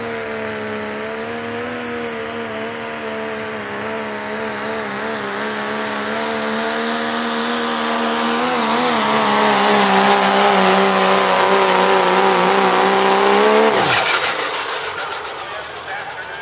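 A Limited Pro diesel pickup truck racing down the track, its engine roaring loudly and climbing steadily in pitch before cutting off abruptly near the end.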